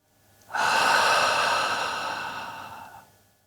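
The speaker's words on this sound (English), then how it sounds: "There's a voiceless whisper in the back of the throat where the vocal folds don't touch at all" A single sustained breathy H sound, like an unvoiced whisper from the throat, holds steadily for about two and a half seconds, close and quiet.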